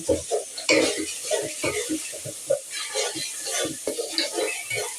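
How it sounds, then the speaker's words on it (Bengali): Spice masala being sautéed in a pan for a home-cooked lunch: soft, uneven sizzling with spatula stirring scrapes and clinks, faint and intermittent, a voice briefly audible in the background. "ভালো করে কষিয়ে নেব"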